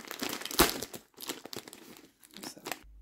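A plastic-wrapped parcel is torn open by hand, with crisp crinkling bursts and tearing in irregular spurts, loud and close, broken by short pauses.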